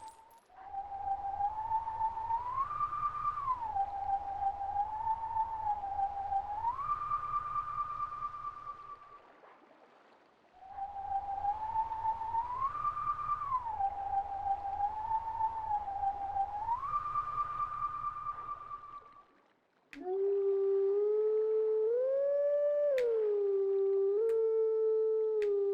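Melodic wolf howling in Zelda: Twilight Princess HD at a Howling Stone, two long sustained howls tracing a wavering tune with a low pulsing drone beneath, then a third clearer, louder howl phrase.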